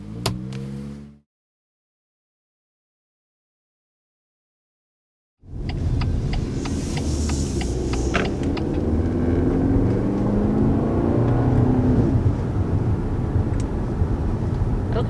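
A BMW X3 with a 2-liter turbocharged four-cylinder engine pulls away after a short stretch of silence, its engine settling into a loud, steady drone heard from inside the car.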